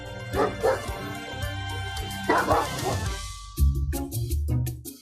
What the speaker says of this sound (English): hear if there's any barking going on inside